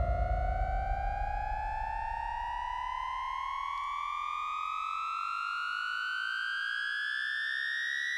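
A steadily rising, siren-like synth sweep comes from the ANILOG morphing analog synth app on iOS, a loud, continuous tone gliding upward in pitch with dense harmonics and no voices.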